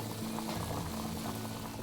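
Palak (spinach) bhaji with peanuts simmers in a pot, giving off a continuous close bubbling and gurgling that stays even throughout, with no voices.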